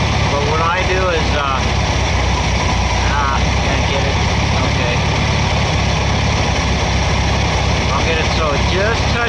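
Volkswagen engine with a Solex PICT-3 carburetor idles steadily, a low rumbling drone with a loud, even tone throughout, while faint chirps and other background sounds run over it.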